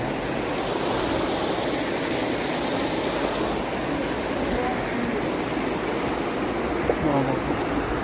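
A steady, continuous rush of a fast mountain stream fills the whole clip, loud and unbroken, nearby, on the road from Hyderabad to Ladakh.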